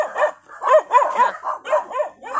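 A dog barks repeatedly in quick, rhythmic bursts, fairly close and loud, with short yippy tones between barks.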